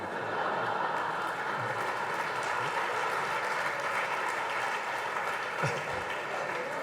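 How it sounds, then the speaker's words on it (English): Audience at a talk during the THiNK 2011 festival claps, a steady, even wash of applause held throughout at moderate distance. "before everyone started clapping"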